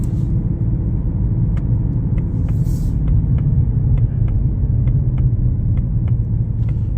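A Ford Mustang cruising in traffic sends a loud, steady low engine rumble through the cabin, with faint ticking clicks scattered over the drone.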